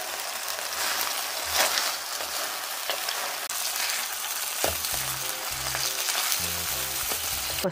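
Cutlets fry in a pan with a steady, dense sizzle broken by frequent crackling spatters and pops. The sound is close and continuous throughout, with no voices.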